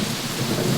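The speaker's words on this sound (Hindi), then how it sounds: "तेज आंधी तूफान के साथ बारिश होने लगी" Heavy rain pours down during a night thunderstorm with strong winds, a dense, loud, continuous roar with low rumbling underneath.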